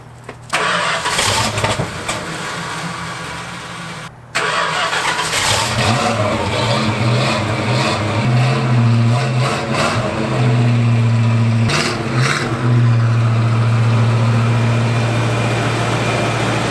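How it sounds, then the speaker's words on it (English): A car engine cranks, catches and starts during a tune-up, then revs up and down loudly and steadily close by, with a brief cut near the start before it settles into sustained running. "I'm gonna try to start it"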